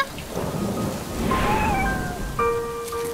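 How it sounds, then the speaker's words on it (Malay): Rain falls with rumbling thunder in a steady wash of noise, while a cat meows plaintively several times over the storm. "Hujan pula tu."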